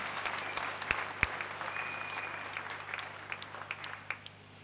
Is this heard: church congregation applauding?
yes